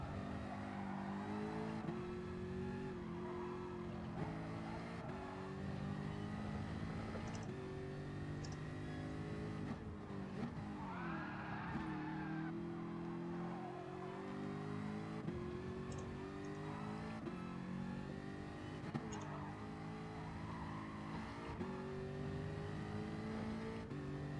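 A Jaguar race car in a racing video game roars continuously at close range, its engine revs climbing and dropping through gear changes without a break, with no voices.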